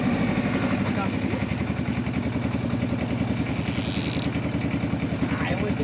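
A low, throbbing boat engine runs steadily at gentle throttle while maneuvering in a harbor, its rhythmic chugging close and continuous, with someone talking over it.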